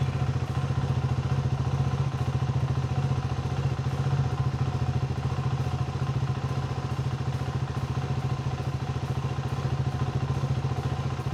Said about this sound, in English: All you have to do to make sure that it is working is fire the bike up.